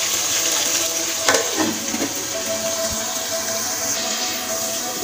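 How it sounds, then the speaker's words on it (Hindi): Radish frying in a spiced masala in a home kitchen, giving a steady bed of sizzle and bubbling with a few stirring knocks around the middle, close and moderately loud, with no talking. "इस मसाले में हम मूली को भूनना है"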